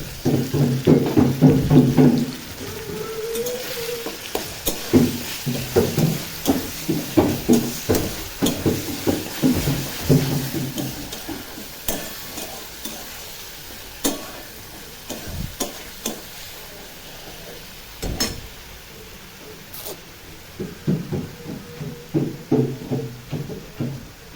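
Ginger garlic paste fries in a pan for a meat curry, with loud sizzling and scraping stirs at the start that thin out into sparse ticks and crackles, then return near the end.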